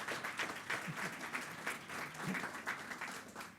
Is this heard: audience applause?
yes